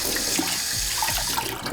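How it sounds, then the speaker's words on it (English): Running tap water splashes steadily over a 3D-printed gyroid net being rinsed clean of dough in a kitchen sink, a continuous close hiss of flowing water. "Just wash it with water a bit."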